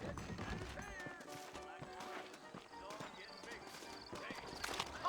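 Horse hooves clip-clop in the western video game Red Dead Redemption, steady and dense under continuous game dialogue and ambient sound, with a brief whinny.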